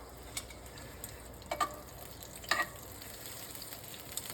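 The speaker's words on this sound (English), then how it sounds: "Go ahead and saute." Blanched green beans sauté in a hot pan, a steady low sizzle with a few sharper clinks and scrapes of stirring scattered through, no voices over it.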